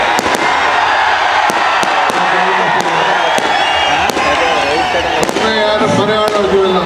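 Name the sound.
firecrackers bursting at Ramanagara Karaga festival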